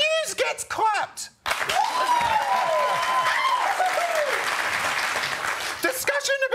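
A television studio audience breaks into loud, sustained clapping after a brief spoken exchange, with a voice talking over the applause and more speech at its close.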